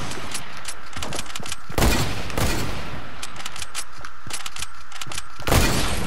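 Sniper rifle gunfire in a video game sniper match: two heavy, booming shots stand out amid a scatter of sharper, lighter cracks and thuds, loud and close, with no talking.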